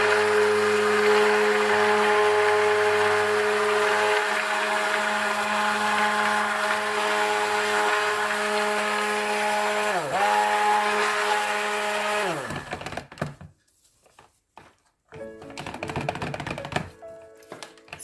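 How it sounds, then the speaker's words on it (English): An electric blender whirs steadily, blending a raw egg mixture for homemade soap. The close, loud motor runs for about twelve seconds, dips in pitch briefly, then cuts out, leaving quieter clatter. "So you need to blend it so that it emulsifies."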